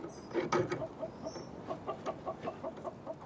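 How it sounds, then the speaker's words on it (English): Four hens and a cockerel on a smallholding cluck in a steady run of short, evenly spaced calls, fairly close and moderately loud, with a couple of louder squawks near the start and no talking. "We've got 4 chickens and a cockerel."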